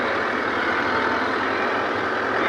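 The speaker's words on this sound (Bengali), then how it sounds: "পুলিশের গাড়ি কিভাবে যায়" Police vehicles moving through Dhaka street traffic, a constant heavy engine rumble and road roar close by with no clear break or voices.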